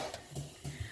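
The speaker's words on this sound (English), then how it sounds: "so my broth is boiling away" Soft, close bubbling and gentle simmering of broth for Korean rice cake soup in a pot on the stove, quiet and continuous with small irregular pops.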